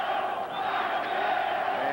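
A boxing arena crowd at a WBC world featherweight championship bout chants steadily for a fighter, a loud, sustained mass of voices from all around with a commentator speaking over it.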